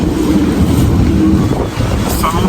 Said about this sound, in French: il est à 20 nœuds et puis hop, les rafales montent